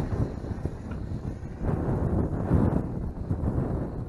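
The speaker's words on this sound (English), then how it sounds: "And it is windy out here and cold." Gusty wind buffets the microphone outdoors in cold weather while a small Syma X8SW quadcopter drone is flown, a steady low rumbling roar that swells and dips throughout with no speech.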